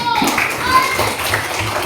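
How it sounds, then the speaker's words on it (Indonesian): A class of schoolchildren claps for a group of classmates, brief mixed clapping heard under children's voices and chatter. "tepuk tangan untuk kelompok 1"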